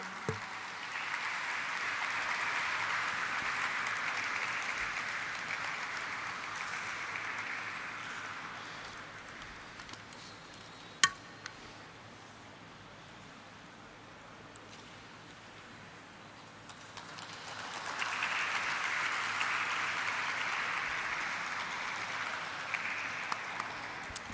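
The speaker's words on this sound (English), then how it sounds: "with a huge round of applause, everyone" Audience applause at a stock exchange listing ceremony for Akums Drugs and Pharmaceuticals Limited, fairly faint and distant, with two bursts of clapping separated by a quieter lull and a single sharp click between them.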